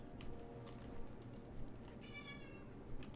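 An in-game cat in World of Warcraft gives one faint meow partway through, over a dense, steady bed of game ambience and music.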